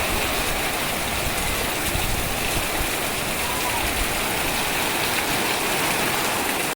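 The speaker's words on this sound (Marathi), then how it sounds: "बघा पाणी बघा काय व्हावतं आता जोरात पाऊस" Torrential first monsoon rain drums on a tiled village roof in Kumbhavade, Ratnagiri, water streaming off the tiles in a thick, constant rushing hiss, near and loud throughout before cutting off abruptly at the end.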